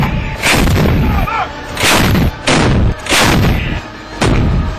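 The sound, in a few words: M777 ultralight howitzer artillery firing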